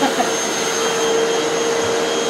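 Sanitaire Extend Mighty Mite vacuum cleaner running steadily, a loud close motor whine with a constant high tone and airy rush, heard alone without talk.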